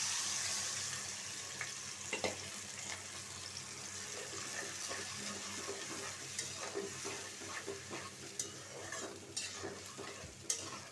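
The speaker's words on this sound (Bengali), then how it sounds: "আমি এই যে মশলা পেঁয়াজ সব দিয়া একটা পেস্ট তৈরি করে নিছি, এখন দিয়ে দিব তেলে" A paste of spices and onion hits hot oil for a Bengali hilsa fish bhuna, hissing in a steady, loud sizzle with scattered stirring clatters throughout.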